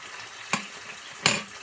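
Tomatoes cooking in a pan for menemen, two short stirring scrapes of a utensil against the pan over a faint low sizzle, close and brief.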